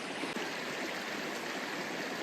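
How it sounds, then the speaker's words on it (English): A river stream flowing in the Brecon Beacons near Picws Du, a steady, close rushing of water with an even wash of sound and no voices. "So this is the river."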